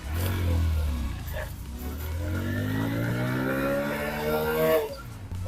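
A Hero Splendor motorcycle engine runs in first gear, revving up in a steady rising whine, close and fairly loud, with no voices over it.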